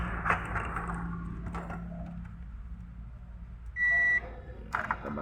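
A single steady electronic beep from a multimeter in continuity mode, testing diodes on a TV power board, sounds for about half a second amid low background hum and light handling noises.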